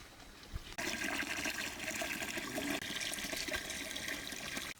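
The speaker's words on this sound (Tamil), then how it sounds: "தண்ணி ஊற்றிக்கலாம்" Water pours steadily into a cooking pot for several seconds while making crab rasam, a continuous splashing rush that starts abruptly after a brief soft knock.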